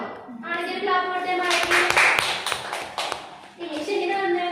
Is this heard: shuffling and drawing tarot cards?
no